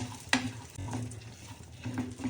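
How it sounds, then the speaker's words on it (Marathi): Watermelon, pumpkin and sunflower seeds roasting in ghee crackle softly, with a few stirring scrapes and light taps against the pan, quiet and close. "टरबूज, सूर्यफूल आणि भोपळ्याच्या बिया व्यवस्थित परतून घ्यायच्यात खमंग"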